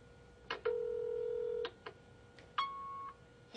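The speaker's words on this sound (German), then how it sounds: "Sie hören eine Ansage auf Ihrem Anrufbeantworter." A telephone answering machine plays short electronic beeps and tones in a quiet room, a couple of clicks, a long steady tone, then a higher beep just before a recorded message begins.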